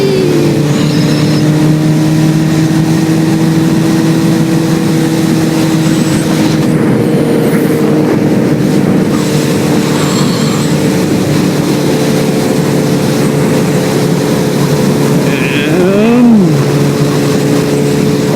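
A motorcycle at speed gives a loud, continuous engine drone mixed with wind rush, holding steady before the pitch briefly climbs and dips as the throttle changes.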